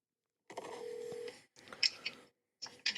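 A phone call to the number on a for-sale sign, starting with a short stretch of tones, then brief bursts of dialing beeps and electronic phone sounds that come close and clear, broken by silent gaps, with no talk.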